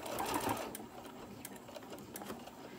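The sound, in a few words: sewing machine sewing curved corners of a koozie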